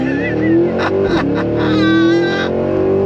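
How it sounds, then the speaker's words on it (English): A 2023 Cadillac Escalade-V V8 launches hard under launch control, its engine note climbing steadily as it accelerates with a strong tonal roar. Someone shouts excitedly over it. "Launch control. On throttle, yeah!"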